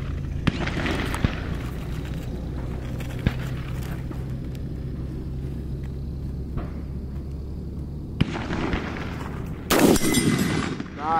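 Sig 716i rifle firing .308 rounds at a steel target outdoors, with a few sharp gunshot cracks spread across a low rumbling background and a louder blast and noisy burst near the end.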